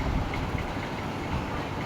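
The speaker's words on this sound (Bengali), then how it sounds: "দেখুন এখানে একটা খালি ট্রেনও আছে।" A train at a railway station gives off a steady, low rumble with a faint metallic undertone, heard continuously and fairly close, with no talking.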